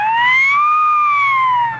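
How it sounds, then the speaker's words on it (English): A radio show's magic carpet lets out a short siren wail that rises and falls once in a smooth sweep, loud and alone, lasting under two seconds. "That's the siren of the certified magic carpet."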